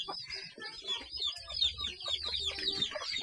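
Desi chickens in a rural yard give rapid, repeated clucks and soft calls, close and fairly loud, running continuously throughout.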